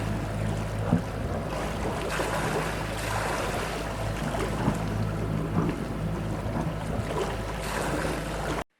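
A sailing boat cruises past Zakynthos, Greece, with a steady, close rush of water against the hull and wind noise running continuously throughout. No voices are heard.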